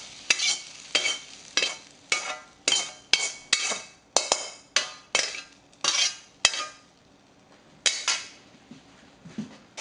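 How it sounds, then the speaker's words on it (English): Cabbage and carrot sambhara being served onto a dish, a run of about a dozen evenly spaced scraping spoon strokes and clinks, close and crisp, with short quiet gaps between them and no talk. "I will serve it in a dish."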